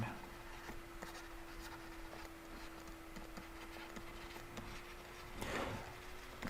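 Chalk or marker scratches steadily across a classroom board as an equation is written during an algebra lesson on irrational equations, a continuous close scraping over a faint steady hum, swelling into a louder stroke near the end, with no talking.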